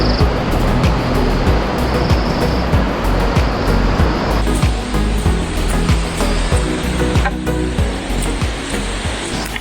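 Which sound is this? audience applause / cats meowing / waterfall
waterfall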